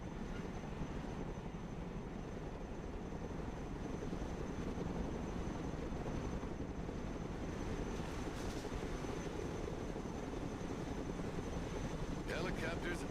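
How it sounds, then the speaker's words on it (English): Helicopter rotor and engine drone in the Broken Arrow military strategy video game, a steady dense mechanical roar that stays loud and continuous throughout, with brief higher rattling bursts near the end. "Helicopters are impressive machines. Boy, are they noisy."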